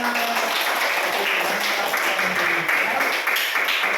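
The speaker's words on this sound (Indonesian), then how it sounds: "Oke, tepuk tangan." Audience in a classroom lesson clapping hands, dense sustained applause from many people lasting the whole stretch, fairly close and loud, with voices mixed in.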